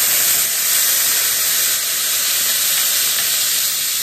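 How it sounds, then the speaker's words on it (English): Vinegar poured into a hot skillet of browned chicken gives off a loud, steady, close sizzle and steamy hiss that holds evenly throughout, with no voices. "Once that's brown, go ahead, add in your vinegar"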